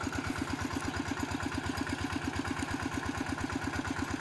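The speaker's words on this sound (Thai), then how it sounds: "วันนี้มาดูทีมงานสูบสะครับ" A pump engine draining a pond runs at a steady idle, a close, loud, even chugging pulse that keeps a fast regular rhythm with no voices over it.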